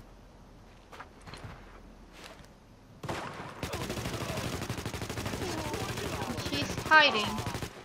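Gunfire in the shooter Tom Clancy's The Division, with a few isolated distant shots and then sustained heavy automatic fire, loud and close. A voice speaks briefly near the start.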